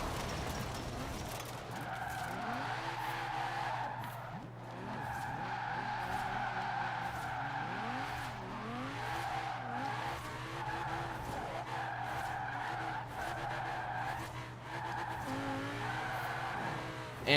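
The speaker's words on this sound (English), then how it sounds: "Like, when you get it sliding," Tires squeal and skid steadily as a car slides through a long drift in Forza, with engine drone underneath and the screech rising and wavering throughout.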